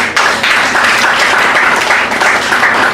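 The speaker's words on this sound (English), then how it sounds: "Definitely worthy of an applause" Audience at the Perth Poetry Club breaks into loud, sustained applause, a dense continuous wash of many hands clapping close by with no gaps.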